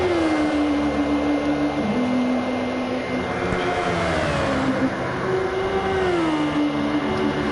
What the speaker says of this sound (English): this car's just whizzing around the track at the moment in Super Formula